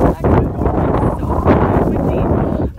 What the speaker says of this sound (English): I don't know if you guys can hear, but it's really windy.